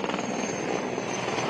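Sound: helicopter flying over a forest fire

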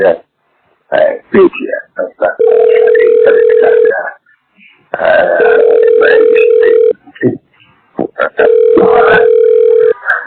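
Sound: telephone call sound effect in audio drama

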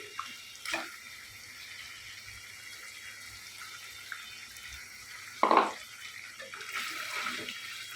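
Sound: water poured into cooking beef curry

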